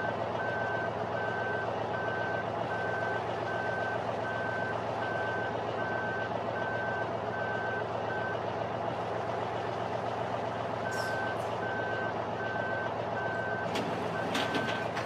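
Day-cab truck hauling a blue livestock trailer for pigs reverses in Farming Simulator 2013, steady evenly spaced reversing beeps over a loud idling diesel drone, with a brief pause mid-way and a hiss near the end.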